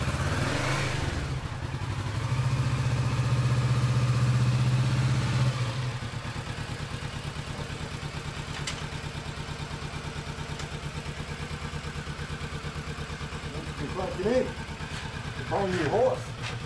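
A Kawasaki Vulcan 650S motorcycle engine runs in gear, rumbling close and fairly loud before easing to a steady lower drone, with people talking over it.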